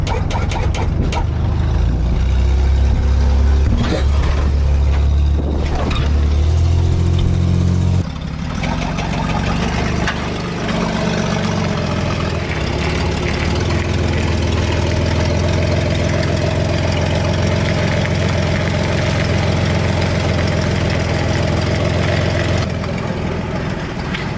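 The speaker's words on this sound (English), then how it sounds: "That was one of the quietest lowriders I've ever been in my life." A lowrider car engine idles and runs with a low, steady rumble, rising briefly early on then settling into a smooth, even idle heard close up from inside the car.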